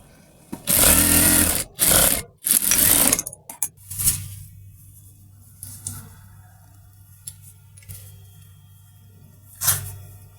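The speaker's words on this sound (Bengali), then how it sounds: "এভাবে সোজা সেলাই দিয়ে নেব" Sewing machine stitching a straight seam on a 36-inch salwar pant, three loud bursts of rapid stitching early on, then a steady low motor hum with faint handling noises and one short burst near the end.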